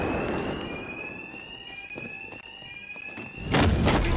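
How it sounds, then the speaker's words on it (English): An alarm in the Batman: Arkham Knight video game rings as a sustained high electronic tone over a rumbling backdrop, joined near the end by a sudden loud burst of noise. "Two-Face's thugs won't hear me over the alarm."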